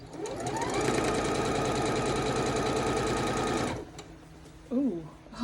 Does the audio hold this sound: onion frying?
no